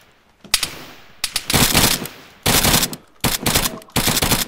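Loud bursts of gunfire from ARMA 3 combat, several rapid volleys in quick succession with brief gaps between them, close and dominant with no talk over them.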